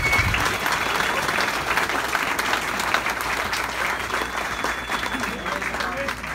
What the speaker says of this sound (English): Can we get another big round of applause for this?